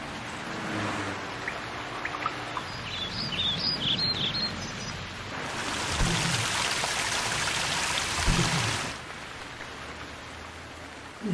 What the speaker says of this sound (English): it's just a really rainy day